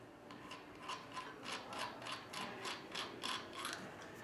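A hex key turns a malleable iron conduit hole plug out of its fitting, producing a steady, rhythmic series of scraping, ratchet-like rasps, close and moderately quiet.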